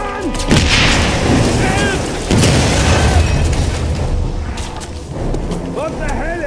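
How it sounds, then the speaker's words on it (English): A grenade going off in the 2009 video game Wolfenstein, heavy booming blasts and crackling debris over a loud continuous battle rumble, with a voice shouting during the noise. "Grenade! Run!"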